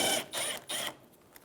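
A ratchet works a 10mm bolt at the bottom corner of a 2007-2011 Toyota Camry rear bumper, giving three quick, close bursts of clicking that stop and leave near silence.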